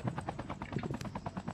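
Rapid rhythmic rotor chopping, fast and even, with a quiet mechanical quality, from a helicopter in Call of Duty battle royale.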